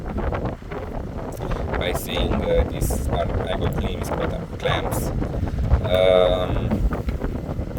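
A large electric fan runs throughout with a steady, loud, rushing whoosh, while a person talks over it.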